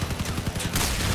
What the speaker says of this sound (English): we're all running the same build on hovers with 5 imp rapid fire machine guns